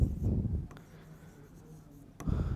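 Pen or marker scratches close up during a chemistry lesson, in two textured bursts at the start and end with a quieter gap between them.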